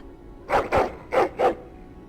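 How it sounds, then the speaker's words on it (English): Four sharp dog barks from a video game, in two quick pairs, close and fairly loud, with a short gap between the pairs. "But listen to that barking!"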